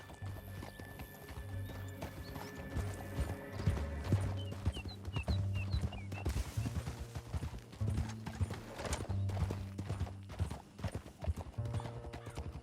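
Horse hooves clip-clop at a steady riding rhythm under dramatic music, with a horse whinnying partway through, in the video game Red Dead Redemption 2.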